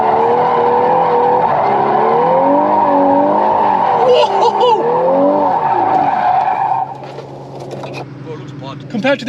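A VW Golf R drifting in first gear, its tires squealing loudly and continuously with a wavering, sustained screech under a droning engine, easing off near the end as someone talks over it.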